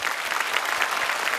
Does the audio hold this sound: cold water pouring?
no